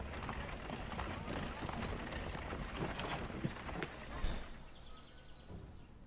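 Horse hooves gallop in Assassin's Creed III, a steady rapid clip-clop under dense game ambience, with a person talking over it.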